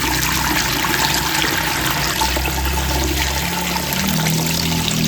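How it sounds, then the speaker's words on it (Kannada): Herbal water made from medicinal leaves pours through a woven basket strainer into a vessel, a steady, full splashing and trickling stream that runs unbroken from start to finish. "ಈ ರೀತಿ ಬುಟ್ಟಿ ಇರುತ್ತಲ್ಲ ಅದರ ಮೇಲೆ ನೀರು ಹಾಕ್ಕೊಂಡು ಸೋಸ್ಕೊಳ್ಳೋಣ."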